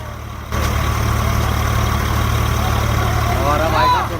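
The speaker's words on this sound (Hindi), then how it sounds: "वीडियो में ब्रेक मार रहा है स्वराज ट्रैक्टर वाला, ब्रेक मार मार के टेस्ट चेक कर रहा है वो।" Swaraj tractor engine running steadily while its brakes are applied repeatedly, a loud low rumbling drone that starts abruptly and holds level, with voices talking over it.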